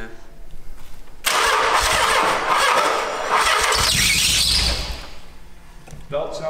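A Nissan 300ZX engine with fresh oil cranks and fires, then runs loudly with a belt squeal for a few seconds before settling down as a voice speaks.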